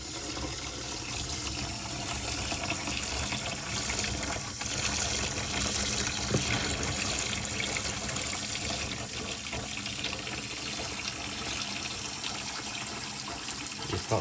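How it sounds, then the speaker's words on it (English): Tap water pours steadily into the expansion tank of a crash-damaged Audi S1 Quattro, a continuous gushing, splashing stream at moderate level, with no talking over it. "I'm just going to turn the tap on as we pour the water."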